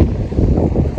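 Strong wind buffets the microphone, a loud low rumbling roar that gusts unevenly from start to finish.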